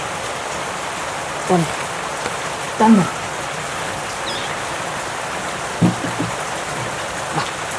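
Light, easing rain patters in a steady hiss throughout, with a few brief spoken words and faint voices rising above it now and then.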